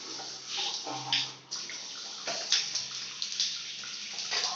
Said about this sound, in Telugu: హ్యాండ్ షవర్ మనం ఈ విధంగా యూజ్ చేస్తున్నామో మీరు చూడడం జరిగింది